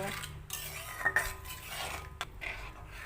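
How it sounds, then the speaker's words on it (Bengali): A spoon stirs a snack mixture with curry leaves and chili flakes in a bowl. It gives steady scraping and soft clinks against the dish, with a few sharper taps near the middle and end. "সব কিছু দিয়ে দেওয়ার পর খুব ভালো করে মিশিয়ে নেব"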